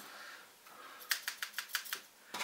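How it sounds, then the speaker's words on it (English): Scissors snip around the top of a used milk carton: a run of about six sharp, evenly spaced cuts, close and crisp, with a quiet pause before them. "So we can snip, snip, snip."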